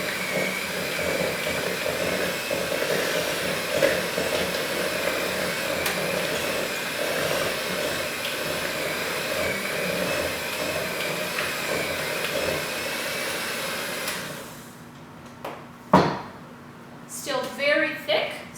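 An electric mixer whirs steadily as milk is beaten into thick vanilla cake icing, a loud continuous motor drone that cuts off near the end, followed by a voice speaking.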